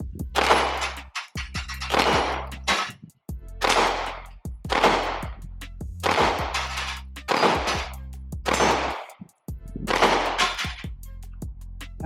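Glock 45 MOS pistol shots ring out at an outdoor shooting range: about a dozen sharp, loud reports fired in quick pairs and short strings, each followed by a brief echo tail.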